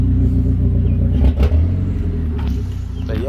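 A 1989 Ford Probe GT project car with a replaced motor idles with a loud, close rumble and a brief rev partway through, and no voices are heard.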